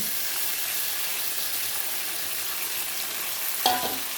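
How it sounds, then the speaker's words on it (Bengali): Mutton fries in hot oil with potatoes and onions already browned, a steady, moderately quiet sizzle and hiss, then a sharp clink and flare of spitting near the end as something hits the pan; nobody speaks. "এই যে দেখুন মাটন ছেড়ে দিলাম।"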